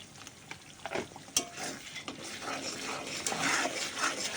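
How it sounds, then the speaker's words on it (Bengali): Ground turmeric, chili, coriander, cumin and garam masala fried and stirred in a pan for a jackfruit kofta curry, soft sizzling beneath uneven scraping and clinking of a spoon against metal, close and without speech. "মশলাটা ভালো করে কষাই নিব এইভাবে এই যে মশলাগুলো আমি এইভাবে কষাই নিচ্ছি"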